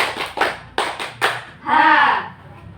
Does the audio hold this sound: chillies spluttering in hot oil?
no